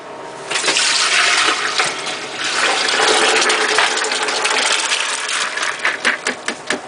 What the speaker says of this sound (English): Get my strainer and I'm going to pour it out.